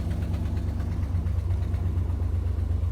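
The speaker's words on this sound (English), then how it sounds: "It's gonna stop idling right. It's got a huge vacuum leak." A 2005 Ford F-350 with a 5.4L engine and a large vacuum leak idles steadily up close, a low droning rumble with a slightly uneven pulse and no voices.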